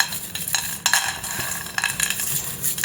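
Roasted peanuts are rubbed and peeled by hand inside a vessel, giving a dry continuous rustle with scattered crisp clicks of shells and skins, close and fairly loud.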